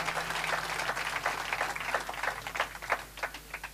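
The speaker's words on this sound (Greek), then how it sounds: "Θα ήθελα ένα χειροκρότημα για αυτή την ωραία ψυχή," Audience clapping for composer Marios Tokas at a Greek tribute evening, a steady patter of many hands sustained throughout at moderate level with no voices over it.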